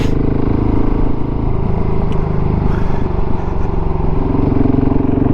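A KTM 690 SMC R single-cylinder motorcycle fitted with a 15-tooth sprocket rides along a road on a cold day, its engine droning steadily and loud throughout, with wind rush and no talk.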